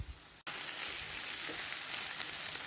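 Egg curry masala with turmeric and chicken masala sizzles steadily in a pan while being stirred, a continuous close frying hiss after a brief cut at the start, with no voices.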